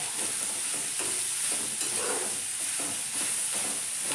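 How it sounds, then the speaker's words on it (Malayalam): Soya chunks for a thoran are stirred in a hot frying pan, giving a steady broadband sizzle and hiss with soft scraping strokes of the spoon repeating about once a second, close and continuous. "ഈ റെഡിയാക്കി വെച്ച നമ്മുടെ സോയാ ചങ്ക്സ് ചേർക്കുകയാണ് കേട്ടോ. എന്നിട്ട് നല്ലോണം ഒന്ന് ഇളക്കി കൊടുക്കാം"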